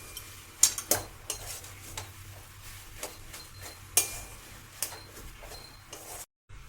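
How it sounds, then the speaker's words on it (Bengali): Minced chicken and grated potato being stirred together in a frying pan, with repeated scraping and clinking of a spoon against the pan over a low, soft sizzle and a few sharper knocks. "চিকেন কিমা আর আলু আমি ভালো করে মিশিয়ে নিয়েছি"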